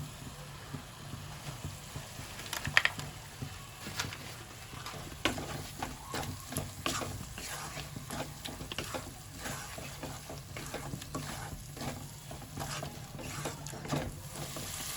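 Spice masala with cashews stir-fried in a pan for mixed vegetable curry, a faint steady sizzle with frequent scraping and tapping of the spatula throughout.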